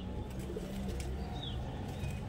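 A Giribaj pigeon coos in low, rolling murmurs close by, a steady throaty burble over faint background noise with no voices.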